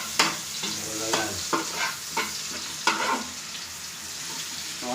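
Onions sizzle in a hot frying pan under a constant bright hiss, while a spoon scrapes and stirs them in several distinct clattering strokes, close by and with no talking.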